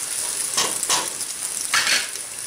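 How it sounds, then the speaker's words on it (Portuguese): Onion frying in a pan, a loud close hiss that swells in a few bursts as it is stirred, with no talk over it. "Aqui já eu já fritei a cebola"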